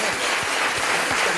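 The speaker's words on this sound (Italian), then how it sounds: "facciamo un applauso alle mamme" A television studio audience at an Italian football show applauds the mothers, a steady wash of clapping held at an even level, with some speech mixed underneath.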